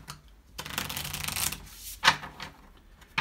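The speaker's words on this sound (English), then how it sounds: "I'm actually going to just reshuffle the barbarian deck. Let me give it a couple of shuffles here." A deck of board game cards from a wargame is shuffled by hand, giving a few crisp riffling bursts and soft rubbing sweeps, close and fairly quiet with brief snaps between shuffles.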